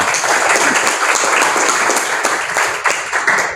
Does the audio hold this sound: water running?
no